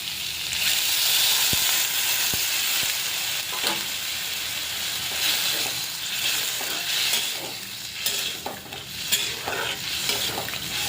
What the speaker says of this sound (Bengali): আলু আর পটল কষে গেছে, এখন জল দিয়ে দিব।